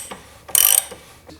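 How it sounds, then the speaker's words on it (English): A 19mm hex wrench loosens the front axle of an FJR1300 motorcycle, giving one short, sharp metallic ratcheting burst close up, with light handling clicks before and after. "With a 19mm hex wrench, we're going to continue to loosen the front axle."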